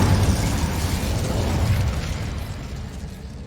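A Confringo blasting spell detonates in Hogwarts Legacy, a loud, close burst followed by a crackling, rumbling tail that fades over a few seconds.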